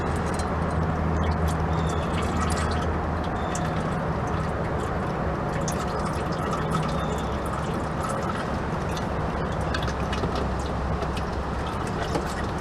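Motor oil drains steadily from a car's oil pan, a continuous close liquid trickle and splatter running unbroken from start to end with no talk.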